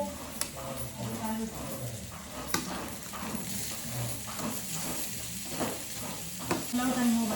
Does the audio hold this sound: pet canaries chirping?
no